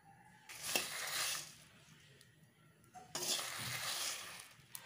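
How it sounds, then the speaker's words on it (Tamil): Whole spices dry-roasting in a pan give off a loud, close crackle and sizzle with stirring scrapes, in two bursts separated by a quieter pause. "வாசனை பொடியிற சத்தம் கேட்கும்."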